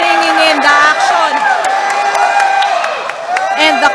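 Boxing crowd at a Kumong Bol-anon fight between Jhunrille Castino and Jeffrey Francisco, loud sustained cheering and whooping filling the venue, with a commentator's voice running over it throughout.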